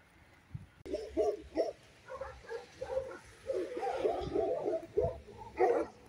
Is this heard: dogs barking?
yes